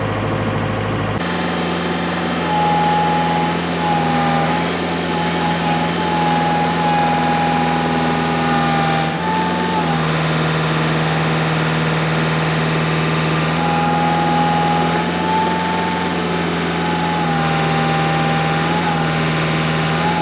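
A Bull Machines tractor engine runs steadily at a constant idle-like pitch, loud and close, with a continuous droning hum and no talk over it.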